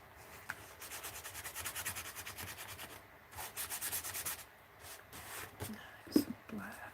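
Paint being scraped off a handmade art card, a soft repeated rasping rub in bursts, close and quiet, with a quiet voice speaking between strokes.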